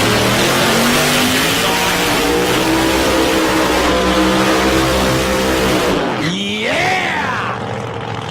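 Victor Bray's race car roaring through a burnout at a drag racing event, a loud sustained engine drone with rising revs and a sharp swooping pitch change near the end.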